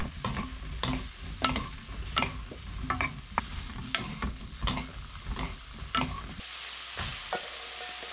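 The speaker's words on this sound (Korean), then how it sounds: "마늘이 노릇해지면 마늘을 건져내고 그 기름에 중불로 버섯을 볶습니다" Mushrooms stir-fry over medium heat in garlic-infused oil made with perilla oil, with a low steady sizzle under a regular series of sharp utensil taps and scrapes against the pan, close by.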